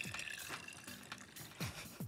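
Wet waffle batter ingredients for lemon and walnut waffles poured into a well of flour in a mixing bowl, giving soft, close liquid splashes and drips that come in a few short bursts.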